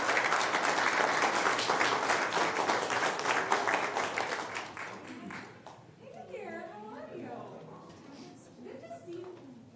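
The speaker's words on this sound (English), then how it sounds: "How about a round of applause?" A round of applause in the Sacramento County Board of Supervisors meeting chamber, with dense, loud clapping for about five seconds that thins out and gives way to voices and scattered sounds.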